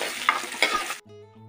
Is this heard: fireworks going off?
no